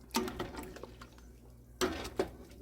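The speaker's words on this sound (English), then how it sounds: "Stir it up" A spoon stirs egg noodles, carrots and celery in a soup pot, making a few clinks and scrapes against the metal and soft sloshing, quiet and close.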